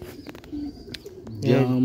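Pigeons cooing at a loft, soft low coos mixed with chirps and brief rustles, with someone talking briefly over them.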